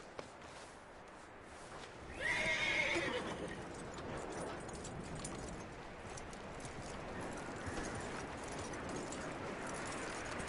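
In a video game, a horse gives a loud, clear whinny, followed by soft hoof clip-clops over a steady outdoor ambient backdrop.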